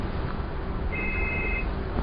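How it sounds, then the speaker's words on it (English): A cell phone rings once in a room during a talk on sovereignty, a short faint electronic tone lasting under a second over low room hum. "What is that? Somebody's phone?"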